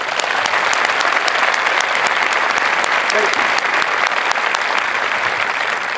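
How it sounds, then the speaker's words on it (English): Crowd at an Air Force Basic Military Training parade applauding veterans, a loud, sustained, dense wall of clapping that continues evenly, with a brief spoken voice in the middle. "please join me in giving our veterans a round of applause."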